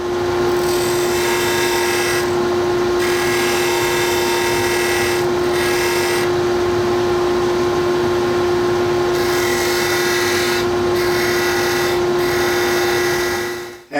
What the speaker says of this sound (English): go over to the disc sander and we're going to clean that up and sand up to those lines